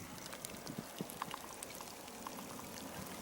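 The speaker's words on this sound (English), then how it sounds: "it appears that it's starting to rain." Rain beginning to fall at a pond outlet in a summer swamp, faint scattered drops pattering irregularly over a low steady wash of flowing water, quiet and without voices.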